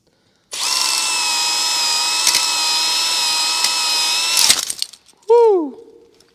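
A drill-driven hone works through the cylinder bores of a barn-find Buick engine, a steady loud whine running about four seconds, then stopping with a clatter and a brief spin-down squeal.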